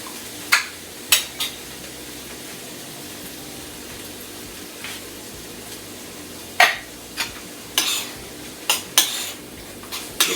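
Spoon clinks and scrapes against a bowl while mushroom steak sauce is stirred into a stuffed pepper filling, a few sharp taps scattered between quiet mixing.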